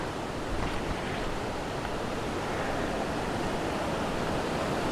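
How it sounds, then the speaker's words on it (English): Rushing water of Pine Creek, a mountain stream in Montana's Paradise Valley running unusually high after mid-May rain, fills the scene with a loud, steady, broadband roar that never lets up. "You can hear the water rushing."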